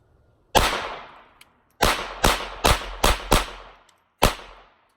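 Gunshots ring out on a shooting range, fired at a piece of wood: six sharp, loud, close reports at uneven intervals, each with a short ringing decay and quiet between.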